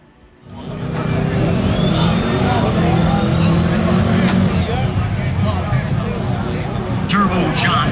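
Small-tire no-prep drag race car launching down the track, a sudden loud engine roar that jumps up after a brief quiet start and holds steady, with crowd babble and voices around it.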